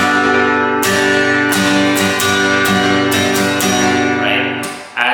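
Acoustic guitar strumming the chorus of a worship song in a steady, rhythmic strum pattern, with full, ringing chords and regular accented strokes, played close and alone without speech.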